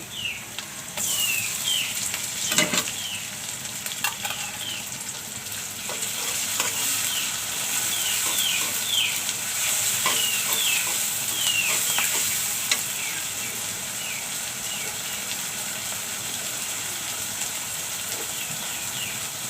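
Sliced onion already fried in a pan sizzles steadily as ginger-cumin paste, garlic paste and dried chili paste go in, with stirring scrapes and a few clinks over a continuous close frying hiss, no talking.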